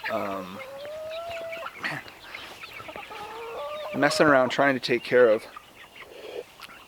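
Several chickens in a flock of about 50 in North Idaho cluck and squawk nearby, their calls rising in a busy, overlapping burst, with a brief voice mixed in among the birds.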